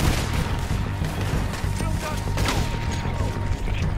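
Gunfire in Red Dead Redemption 2 rattles through a dense, continuous wash of game action, with sharp shot transients poking out over a constant loud rumble and a faint steady tone.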